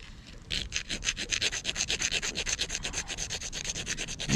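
A serrated edge scrapes rhythmically along a magnesium fire-starting rod, a steady series of close, gritty rasping strokes grinding off flakes.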